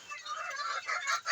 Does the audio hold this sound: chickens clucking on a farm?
yes